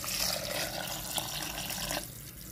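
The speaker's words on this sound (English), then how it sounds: "To this we shall add water." Water is poured into sprouted green dal seasoned with a little red chili powder, a steady close splashing stream that runs for about two seconds and then stops abruptly.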